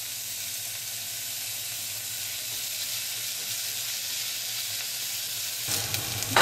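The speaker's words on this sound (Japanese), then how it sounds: "中火ぐらいで炒めます" Green asparagus stir-frying in a pan over medium heat, a steady close sizzle and hiss running throughout with a brief louder scrape of stirring near the end.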